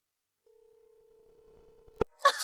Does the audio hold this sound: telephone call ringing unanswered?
yes